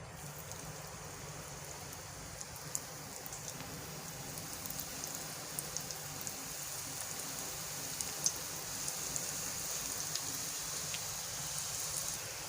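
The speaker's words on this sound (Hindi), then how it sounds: "अब मैं करती हूँ इसे फ्राई। घी गर्म हो चुका है, अब मैं डालूँगी इसमें।" Onion rings frying in hot ghee, giving a continuous faint sizzle with fine crackling pops spread evenly throughout, steady and close with no talking.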